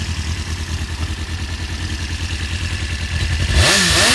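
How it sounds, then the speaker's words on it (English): Suzuki GSX-R 400 motorcycle engine idling with a lumpy, pulsing throb close by, then revving sharply upward near the end, loud with no talk. "What's the bike? It's a GSX-R 400."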